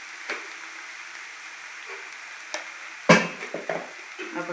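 Masala for egg fried rice sizzles softly in a pan under a steady hiss, broken by a sharp spoon scrape and several quicker stirring scrapes near the end.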